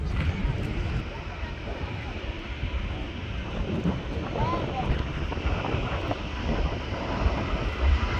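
An Airbus A350 roars on takeoff at Manchester Airport, a broad, steady engine rumble held at a distance, with wind buffeting the microphone throughout.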